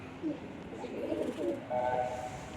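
A pigeon coos softly in low, rolling murmurs, a few throaty calls close by against faint background noise.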